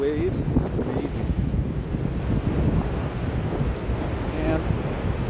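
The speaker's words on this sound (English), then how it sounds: "The waves, it's just amazing." Ocean waves wash onto a winter beach in strong wind, a steady broadband roar with wind buffeting the microphone throughout and brief voice-like tones near the start.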